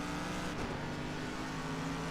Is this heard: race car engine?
yes